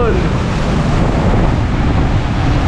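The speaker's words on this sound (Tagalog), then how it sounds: "ang lakas ng alon" Strong ocean surf at Dakak Park and Beach Resort in Dapitan City, a loud, constant wash of crashing waves heavily buffeted by wind noise on the microphone.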